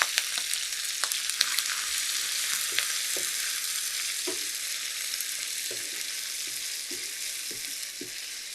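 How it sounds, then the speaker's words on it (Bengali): Onions fry with whole spices in a pan, a loud close sizzle that runs throughout, with repeated clacks and scrapes of stirring. "পেঁয়াজটাকে আমি খুব ভালো করে ভেজে নিয়েছি।"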